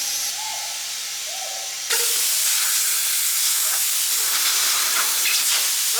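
Compressed air hisses loudly and steadily into a Kubota RTV utility-vehicle tire as its beads are seated. A quieter hiss comes first, then the main blast takes over after about two seconds.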